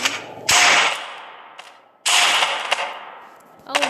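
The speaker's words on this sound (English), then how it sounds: "Now the rail gun." Two sharp, loud blasts of a rail gun fire in the game Melon Playground, each snapping out and then fading over about a second, with a third shot beginning at the end.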